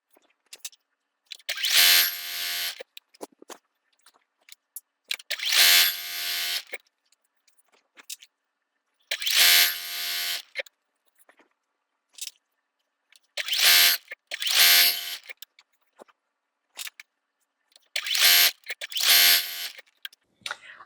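A sewing machine stitching a quilt seam runs in repeated bursts of steady whirring, each lasting a second or two, separated by short silences, close and fairly loud.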